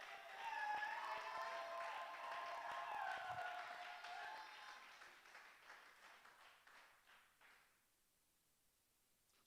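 A church congregation applauding and cheering during a sermon, a faint, distant wash of clapping that fades out toward the end.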